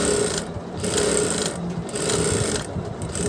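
Sewing machine stitching small frills for a dress made from a saree, its steady motor whir broken by short pauses, close and fairly loud with no talk.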